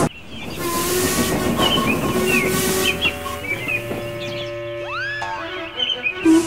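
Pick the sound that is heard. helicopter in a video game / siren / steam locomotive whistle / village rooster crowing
steam locomotive whistle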